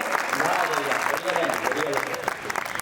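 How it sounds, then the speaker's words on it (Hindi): Listeners at a Hindi poetry recital (kavi sammelan) in Gondia break into applause, a close, continuous wash of many hands clapping at steady loudness throughout the short stretch. "अरे भाई तालियां तो खोलिए"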